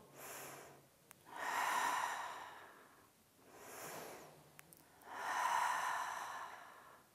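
Slow, deep breathing during a prenatal Pilates exercise, with long inhales and exhales alternating in two full cycles, close and clear with no talking.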